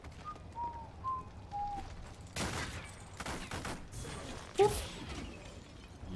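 Bursts of gunfire from a big gun in the action RPG Wolcen: Bloodtrail, several loud volleys in separate spurts among whistling game effects, with a person talking faintly at times.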